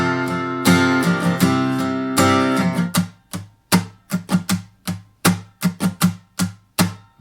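Acoustic guitar strumming the chorus pattern of a song, full ringing strums at first, then crisp muted rhythmic strokes in a steady repeating pattern, played solo and close.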